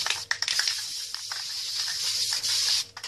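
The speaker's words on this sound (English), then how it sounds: "Careful when you spray the top." Short bursts of spray paint hiss onto an Xbox 360 console shell, up close, separated by brief gaps and soft clicks of the can's nozzle.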